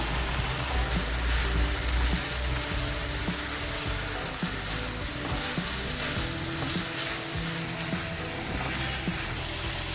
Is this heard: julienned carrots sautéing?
yes